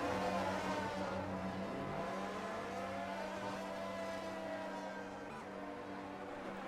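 Race cars lap Spa in a racing video game. Several engines drone and whine at once in overlapping pitches, close and loud, with a steady hum beneath.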